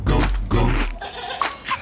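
A goat on a New Zealand farm bleats loudly and close, two strong quavering bleats followed by fainter calls, with no talking.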